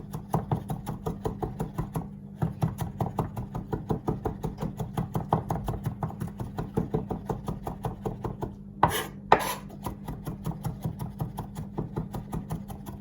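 A knife finely chops vegetables for spring rolls on a board, making quick, even, close taps in a steady rhythm. There is a brief pause partway through, followed by a couple of louder scraping knocks.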